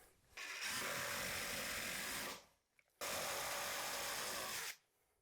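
A power drill drives a screw into a fluorescent light fitting, two sustained whirring runs of about two seconds each with a short pause between, close and steady.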